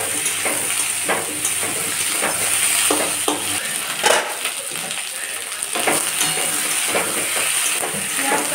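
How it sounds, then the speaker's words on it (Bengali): A whole onion frying in hot oil with potatoes in a home kitchen pan: a loud, continuous sizzle broken by repeated scraping and stirring strokes of a utensil, with no talking. "পেঁয়াজটা লাল লাল করে ভেজে নিই।"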